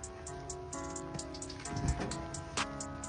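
Rain falls steadily outdoors while a couch is loaded and strapped onto a rental vehicle, with a constant patter and a few dull knocks and thumps from the loading close by.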